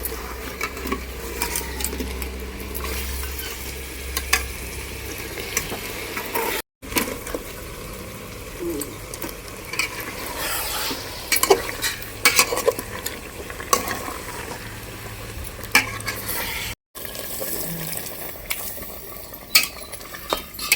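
Potatoes stirred into mutton curry frying in a pot, a steady close sizzle with scraping and clattering of the spoon against the pan throughout, with no talking.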